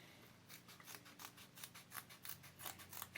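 Scissors cut around an ostomy bag flange in a quiet series of rapid, regular snips, faint and close, with no talk.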